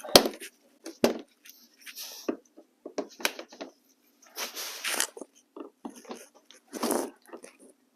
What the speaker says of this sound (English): Pop these last two clips out.